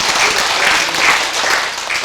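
Union members at a general meeting clap in steady, dense applause to approve the settled budget, a loud crowd filling the hall for about two seconds.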